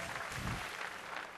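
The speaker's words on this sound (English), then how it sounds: "let's get a big cheer for these guys" At BlizzCon, an audience cheers and applauds in a short, dense burst of clapping that fills the hall and stays loud throughout.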